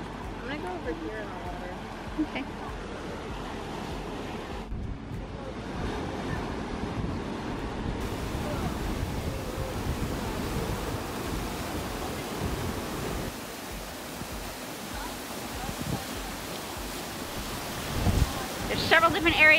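Strong wind buffets the shore at seaside tide pools, roaring and rumbling continuously with surf washing in beneath it.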